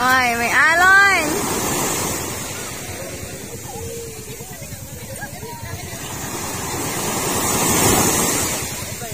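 Sea waves and rushing water wash around a moving boat under steady wind noise, swelling and easing, while people talk and exclaim over it.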